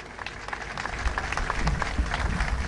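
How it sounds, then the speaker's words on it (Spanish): An audience at a public event applauds the guests, a fairly quiet, uneven wash of clapping that builds slightly through the short stretch, with crowd murmur mixed in. "un fuerte aplauso para Susana Díaz y para el Puma"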